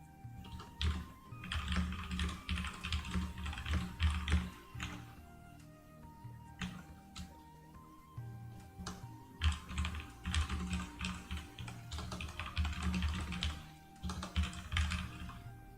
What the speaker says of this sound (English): I'm just typing in all of this.